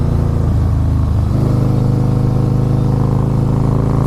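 A Harley-Davidson Fat Boy S motorcycle riding on a bumpy road, a loud, close, pulsing engine drone whose pitch rises as it picks up speed, no voices.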